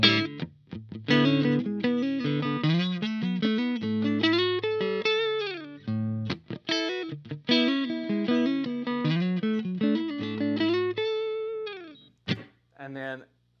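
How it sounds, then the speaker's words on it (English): Electric guitar played on the neck position twisted Tele pickup through a Dr.Z Carmen Ghia amp, a clear, moderately loud run of picked notes and chords with brief pauses near the end. "If we go to the neck pickup, it's going to get just a... This has a twisted tele pickup in it"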